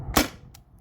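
A CO2-powered T4E TR68 pistol fires a single PVC-coated steel ball, a sharp, close pop with a short fading tail and a faint click just after.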